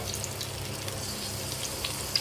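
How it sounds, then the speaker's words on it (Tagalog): Ginger frying in hot oil gives a steady, even sizzle with soft crackles throughout, close and moderately quiet, with no talking. "Mainit na yung mantika ko sa kabila. Magprito ako ng palad."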